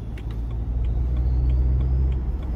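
A BMW 335d E92 with a Stage 1 tune and downpipe, rated 350 hp, rumbles steadily from inside the car while a faint, thin turbo whistle rises above the engine drone.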